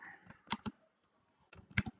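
Quiet, close keystrokes on a computer keyboard come in two short clusters of sharp clicks separated by a pause, soft and sparse.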